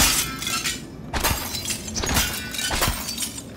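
Glass shattering in a video game, several bright crashing breaks spread across a few seconds, loud and close against dense game noise.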